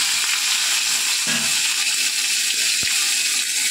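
Hot oil spatters and sizzles loudly in a pan while hilsa fish fries, a steady, close hiss with brief pops and no talk.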